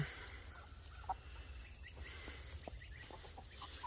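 Jersey Giant chickens cluck softly in an outdoor food forest. The clucks are faint, scattered and irregular over a low background hum.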